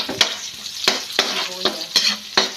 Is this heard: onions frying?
yes